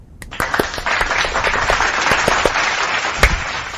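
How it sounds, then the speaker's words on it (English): Hand clapping, close and sharp: a quick, slightly uneven run of about a dozen claps over a low background hiss, with one louder clap near the end. "I do clapping different than everyone else too."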